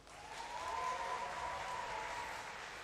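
A large indoor crowd at a StarCraft II tournament in Ukraine applauds and cheers in a steady, sustained roar of clapping heard from a distance, with no talk over it.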